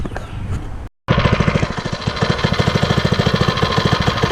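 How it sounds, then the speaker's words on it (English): A small 79cc, 3 horsepower Harbor Freight Predator gas engine fitted in a Chinese quad sputters to life after a brief gap, then runs with a rapid, even chugging, loud and close. "that is a 3 horsepower Harbor Freight Predator engine, 79 cc's"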